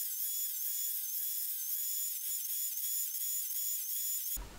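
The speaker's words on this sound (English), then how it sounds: "I ended up using the table saw to cut several slots into the wood" A table saw cuts slots into wood with a steady, high-pitched motor whine that holds at constant pitch throughout, then cuts off abruptly just before the end.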